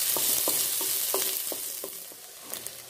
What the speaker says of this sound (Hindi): देखिए प्याज अब भून गया है थोड़ा थोड़ा सा।